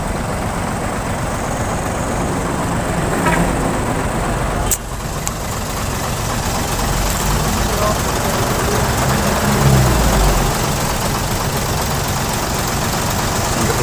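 A Hino truck's diesel engine runs steadily after straining on an uphill climb, with a smoking engine bay, its low, continuous rumble loud and close throughout, with a brief sharp knock in the middle.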